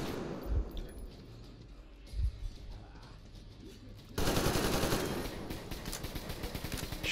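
Gunfire in the post-apocalyptic shooter Metro Exodus: a few sharp isolated shots early on, then from about four seconds a dense, loud stretch of rapid automatic fire with a faint voice underneath.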